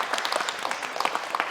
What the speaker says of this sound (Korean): 우리 격려의 박수 한번 하겠습니다